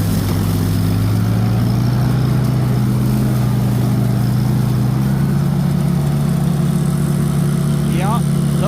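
A Farmall Cub tractor mows weeds through a clover strip, its engine a loud, steady low chug running close by throughout, with a brief higher rattle near the end.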